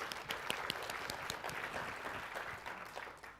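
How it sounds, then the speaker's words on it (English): Audience applause in a corporate culture talk, a soft steady patter of many hands clapping, fairly faint and distant, with no voices over it. "Give you some applause in advance."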